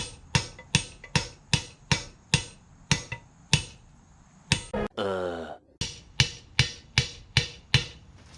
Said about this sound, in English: You succeeded with that little hammer.